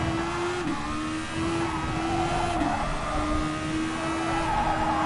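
Super Formula race car in a racing game at Barcelona, a high steady engine whine that dips in pitch twice as the car brakes hard, with faint tire noise and no voices.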